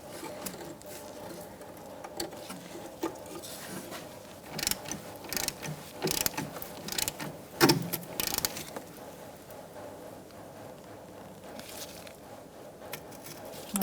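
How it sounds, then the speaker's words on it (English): A rear brake hose is fitted to its bracket on a 2002-2006 Honda CR-V, with close ratcheting clicks, metallic tool taps and scattered handling noises against a quiet workshop background. "now we're going to attach our brake hose to the bracket"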